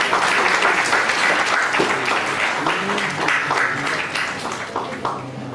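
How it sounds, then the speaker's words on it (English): An audience at a seminar on company incorporation and compliance gives a round of applause, dense sustained clapping from many hands that starts strong and thins slightly toward the end, with some voices beneath. "Please thank Sri Lakshmi with a round of applause."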